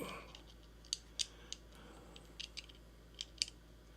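Small screws on a Microtech knife are snugged up with a tool, giving a scattering of faint, sharp metallic ticks and clicks close by over a quiet background.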